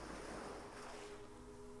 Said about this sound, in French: Le son des vagues t'invite au calme intérieur et à la détente profonde.